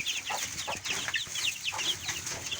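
Chickens cluck and chirp busily inside a henhouse with a silver-and-black young rooster among them, overlapping calls close by with repeated short chattering notes and a faint farmyard background.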